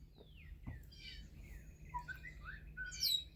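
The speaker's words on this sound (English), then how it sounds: "I am outside, so you'll probably hear some birds chirping," Birds chirp outdoors: several short, high tweets and trills, fairly faint and distant, scattered over a quiet background with a brief thump early on.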